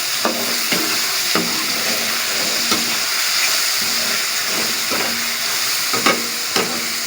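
Bottle gourd fries in a pan with black pepper, giving a steady loud sizzle broken by regular scraping stirs of a spatula about every half second, with no voices.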